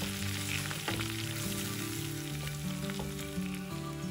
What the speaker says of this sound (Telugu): ఈ ఉల్లిపాయ పచ్చివాసన పోయి కొద్దిగా ఆయిల్ పైకి తేలే వరకు వేయించుకోండి